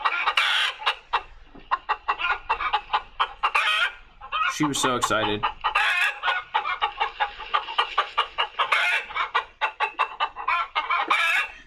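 A chicken in a chicken coop clucks steadily in short rhythmic bursts, near and loud, with one brief crowing squawk midway, while someone speaks a few words.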